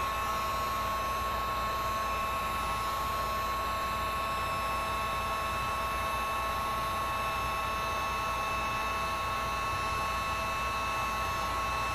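A hair dryer blows on a chalk paint collage, giving a loud, steady whooshing hum that runs unbroken throughout.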